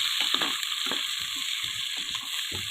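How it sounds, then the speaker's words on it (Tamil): Onions are stirred and sautéed in a pan until golden, giving a steady sizzling hiss punctuated by irregular scraping and clacking strokes of the spoon. "நன்றாக கை வலிக்கும் வரை கிண்டவும். கிண்டிக்கிட்டே இருக்கவும்."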